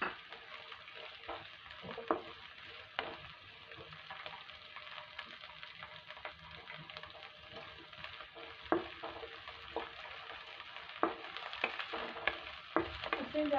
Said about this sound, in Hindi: आधे सेकेंड एक सेकेंड के लिए भी हम गाजर को पकाएंगे, ज़्यादा नहीं पकाना है। और प्याज शिमला मिर्च को डाल